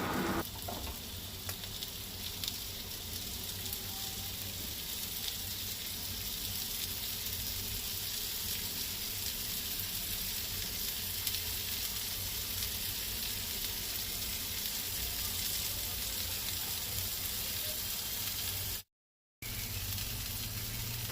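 Pomfret fish pieces fry in oil in a pan on a gas stove, with a steady, close sizzle that continues throughout and breaks off for a moment near the end.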